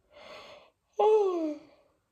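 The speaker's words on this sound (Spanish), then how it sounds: "Qué vergüenza, todo el día bostezando." A woman yawning: a soft breathy inhale followed after a brief pause by a louder, drawn-out voiced yawn that slides down in pitch, close and alone.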